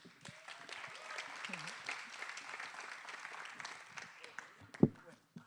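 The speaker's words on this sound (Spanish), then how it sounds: "Un aplauso, por favor." Applause from an event audience at the close of a Spanish-language integration strategies debate, a steady crackling patter of clapping hands that holds for several seconds at moderate level, with a sharp knock near the end.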